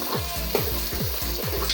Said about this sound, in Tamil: இந்த வழுக்க காய் இருக்கு இல்லையா, அதையும் நெய்யில் போட்டு ஒரு வதக்கணும்